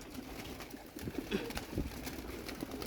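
Soft pigeon coos sound close by, a few low murmuring calls over a faint steady background hiss.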